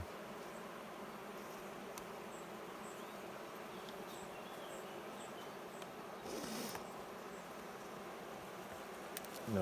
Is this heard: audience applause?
no